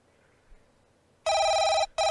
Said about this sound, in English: The phone sounds way louder than it usually does.